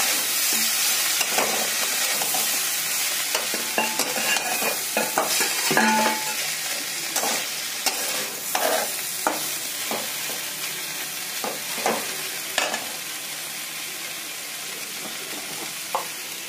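Garlic fries in a hot pan while a spoon stirs it, giving a steady sizzle broken by repeated scraping strokes against the metal, close and continuous with no talking.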